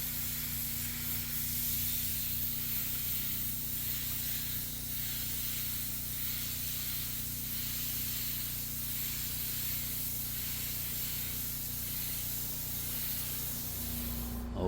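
A spray gun lays a red mid coat of three-stage paint onto a Tesla Model 3 bumper during a mobile repair, a steady unbroken hiss that runs at even strength for the whole stretch without any talk.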